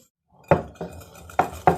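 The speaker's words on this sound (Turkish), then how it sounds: "Neyse ben bulaşıklarımı yıkayayım." Dishes being washed by hand: a few sharp clinks and clatters of plates and cutlery, close and distinct against an otherwise quiet room.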